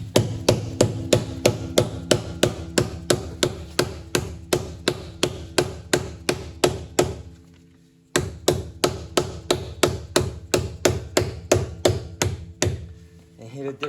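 Steady series of sharp hammer taps fitting an AlloyGator protector onto a wheel rim, roughly three blows per second and close by, with a brief pause midway before the rhythmic tapping resumes.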